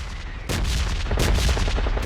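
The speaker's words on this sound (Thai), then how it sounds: "เสียงปืนข้างหลังเนี่ย" Loud gunfire in PUBG Mobile, with several sharp shots and bursts cracking over a continuous rumbling background, close and intense.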